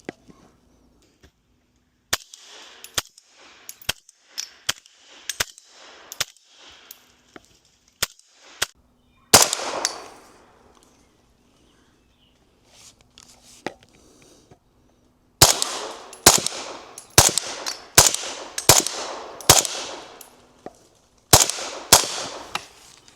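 Suppressed PSA Jakl rifle firing subsonic rounds through a Dead Air Mojave 45 silencer, a series of sharp muted cracks, some spaced singly and others in quick strings, with echoing tails and quiet gaps between.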